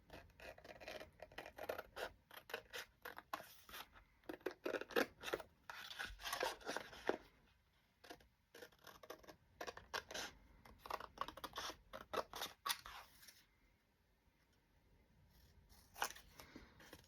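Scissors snip and scrape through paper for a floral journal in a long run of quick, uneven cuts that pause briefly near the end before a final snip, close and moderately loud, with no talk.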